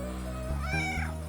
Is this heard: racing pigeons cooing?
no